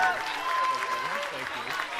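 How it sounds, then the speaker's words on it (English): Applause from a crowd fills the short stretch, a steady wash of clapping with a voice carrying over it. "Nice round of applause."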